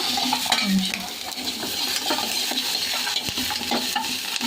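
Sliced onions frying in half a teaspoon of oil in a pan for a tomato cashew chutney: a steady close sizzle with frequent spatula scrapes and stirring clatter throughout, no voices.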